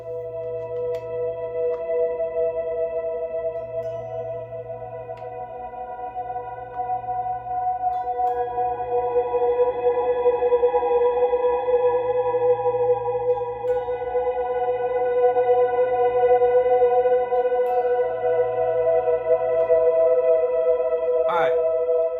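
Shimmering guitar tones sustain in a dense, washed-out Strymon particle reverb with no Boss reverb, forming a steady ambient drone that swells gently without clear note attacks.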